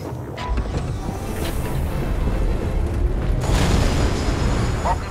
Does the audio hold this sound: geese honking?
no